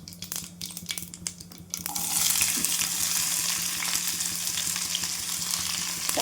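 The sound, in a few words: mustard seeds, cumin and onion frying in hot oil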